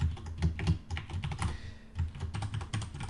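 Someone types fast while writing code on a computer keyboard, with dense, close, thumpy key strikes in quick bursts and a short pause midway.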